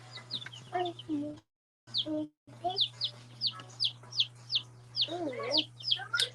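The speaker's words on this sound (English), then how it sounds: "They're actually the 4-H chickens" Chickens cluck and squawk in quick repeated bursts, close by, with a low steady hum underneath and a couple of brief dropouts.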